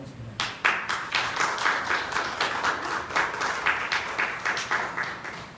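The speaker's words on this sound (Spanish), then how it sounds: "Un aplauso" An audience at a Spanish-language sermon breaks into applause, starting with a few sharp claps and then settling into a steady, moderately loud round of clapping that continues evenly to the end.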